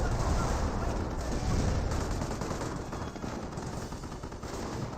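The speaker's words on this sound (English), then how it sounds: "Pretty good 25 pounder barrage there onto that Hetzer." A 25-pounder artillery barrage pounding a Hetzer in the video game Company of Heroes, a loud, dense, continuous rumble of overlapping blasts and gunfire.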